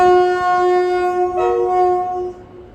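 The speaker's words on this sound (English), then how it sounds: "Nice little two freight tone there from the drivers there." A pair of class 90 electric locomotives hauling a freight train through Carlisle sound a loud, sustained two-tone horn, the pitch stepping partway through, heard close over the steady rumble of the passing train.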